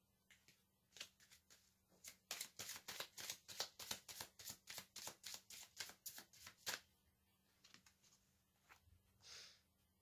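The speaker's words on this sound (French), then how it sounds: "Maintenant, je vais tirer des cartes d'oracle." Oracle cards are shuffled and drawn in a quick run of crisp, papery flicks and riffles that builds to a dense rhythmic burst, then thins out to a few softer rustles near the end. No voices are heard.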